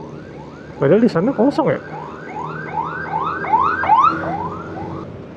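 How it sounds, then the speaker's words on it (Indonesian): Ambulance siren on a road in Indonesia, a loud rising-and-falling wail that sweeps repeatedly while a person speaks briefly over it. "ada ambulans guys"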